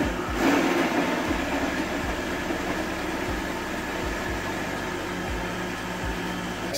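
A blender whirs through a banana, chocolate and almond smoothie, a steady loud motor drone with periodic low knocks as the contents churn, running alone throughout.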